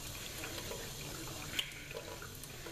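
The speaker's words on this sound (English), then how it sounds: "Now I'm just going to dip that in the water and go in on the face side and swirl my" Makeup brushes are swirled through a container of cleaning water, giving soft continuous sloshing and trickling with a few small splashy accents, quiet and close, with no voices.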